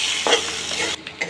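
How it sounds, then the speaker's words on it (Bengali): Eggs fry in oil in a kadai with salt and turmeric, sizzling steadily up close while a utensil stirs and scrapes in short bursts, and the sizzle thins out near the end. "আমি ডিমগুলো একটু ভেজে নেব হালকা।"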